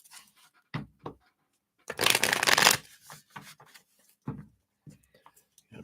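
Tarot reading cards being shuffled by hand, close up, with a few soft taps and riffles, one longer burst of rapid riffling, then more scattered slaps and shuffles, no talking.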